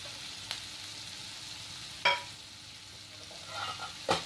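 Cauliflower florets and cauliflower leaves with green chilies frying in a pan, a steady soft sizzle broken by a few sharp scraping stirs near the mic.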